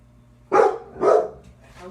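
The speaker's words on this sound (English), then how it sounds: "that's my dog there going off" A dog barks indoors, two loud, close barks about half a second apart, followed by a fainter third bark.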